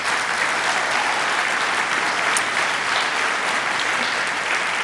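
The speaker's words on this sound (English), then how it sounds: "Please give them another round of applause." A banquet audience at an annual code council dinner gives a steady, sustained round of applause that stays even in loudness from start to finish, dense and moderately close.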